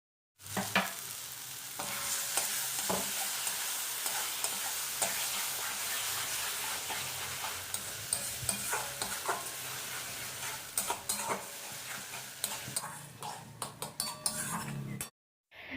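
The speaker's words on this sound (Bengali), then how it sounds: "এর মধ্যে এখন সিম্বাটা দিয়ে সমস্ত কিছুর সঙ্গে খুব ভালো করে নেড়ে ছেড়ে মিশিয়ে নিতে হবে" Mashed flat-bean paste is stirred into fried onions in a sizzling pan, with a utensil scraping and clinking against the metal in steady close strokes over continuous frying noise.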